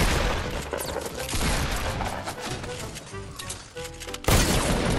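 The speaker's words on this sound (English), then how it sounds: "I pulled out my hunting rifle." Hunting rifle fire in Fortnite amid dense game action, with a sharp loud report near the end over a busy, continuous mix of in-game noise.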